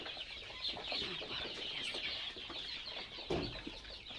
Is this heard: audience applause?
no